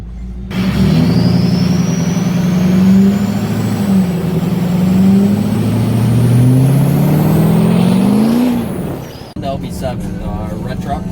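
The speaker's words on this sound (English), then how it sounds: "LB7 red truck" A red LB7 Duramax diesel pickup, used to haul a half-ton truck, rumbles loudly and steadily up close, its engine note rising and falling with revving, then cuts out near the end; a voice sounds briefly after.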